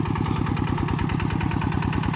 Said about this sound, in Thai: รถไถคันเดียวนี่โอ้ยบ่ทันแล้วเลยย่อขาดย่อไถใส่